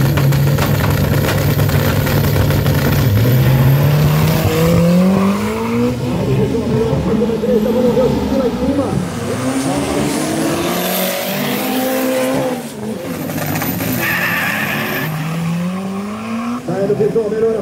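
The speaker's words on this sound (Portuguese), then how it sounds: "vai enfrentar Thiago do Espírito Santo com o seu gol, o Titi da conveniência do churrasco com o seu gol" Volkswagen Gol cars launch down a 201-metre drag strip, engines roaring loud and close with rising and falling revs and gear changes, tire squeal at the start, under an announcer's excited commentary.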